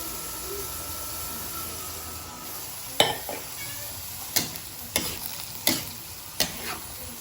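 Winged beans and vegetables with pure coconut milk are stirred in a pan: a soft simmering hiss runs throughout, then a spoon scrapes and knocks against the pan several times, close and quiet, with no talking.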